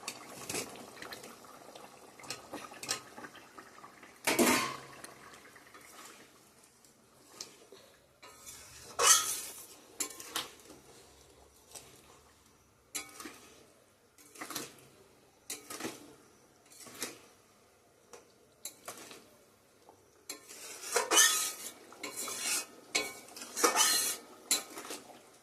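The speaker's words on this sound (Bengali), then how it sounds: "তো চলো এখন পনিরগুলো দিয়ে দিব।" Paneer is stirred in a metal pan, with spoon scrapes and clinks coming in irregular bursts and faint background quiet between them. Close and moderately loud.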